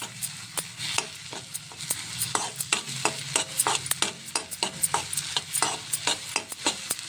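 Goat brain fry stirred with chili powder in hot oil: a spoon scrapes and taps the pan in a quick, regular rhythm, each stroke loud and close, over a continuous sizzle.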